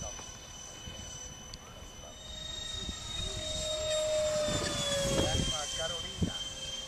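A-10 jet at about three-quarter throttle on a test flight, a steady high whine with tonal lines over broad roar, heard from a distance and slowly building, with faint talk in the background.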